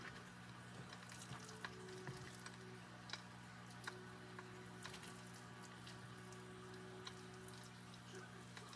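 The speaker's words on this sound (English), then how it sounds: "just put your salmon patties in there and let them fry" Salmon patties fry in a pan with a quiet, even sizzle, occasional soft pops and clicks, and a low steady hum beneath; faint overall and without speech.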